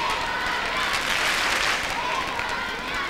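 Spanish crowd applauds a rhythmic gymnastics hoop routine at the 1992 Olympics, a broad, steady wash of clapping filling the arena with a commentator talking over it.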